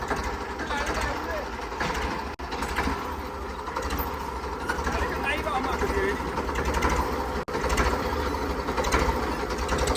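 A Ford 3600 tractor engine runs steadily with a fast mechanical ticking from its gears, continuous for ten seconds under ongoing talk.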